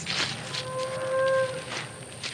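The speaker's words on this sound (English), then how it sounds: "There's the cows. They love the strawberries too." A single cow lets out one long, clear moo on a farm, heard at moderate distance over light outdoor background noise.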